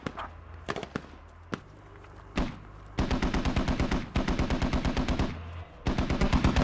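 Bursts of automatic rifle fire and single shots in the Squad military shooter game, starting as scattered cracks and building into sustained rapid volleys, loud and close with brief pauses between strings.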